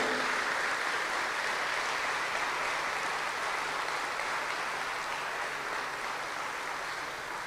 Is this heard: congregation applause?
yes